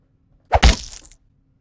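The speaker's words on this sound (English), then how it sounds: "Now we've got a quick knife sound design." One sharp, close stab effect: a quick crunching impact with a short fleshy tail, heard alone.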